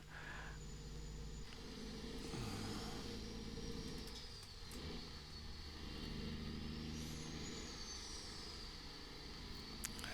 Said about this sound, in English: This motor's alright. Doesn't sound too bad.